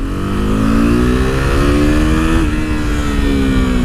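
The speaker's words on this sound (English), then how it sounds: "And so this really goes. Look, second gear." A KTM RC390 motorcycle accelerates hard in second gear, its engine note loud and close, rising steadily in pitch with a brief dip near the middle before climbing again.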